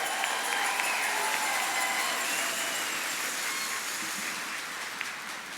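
A school district convocation audience cheering and applauding, a dense sustained wash of clapping and crowd noise that holds steady and eases slightly toward the end.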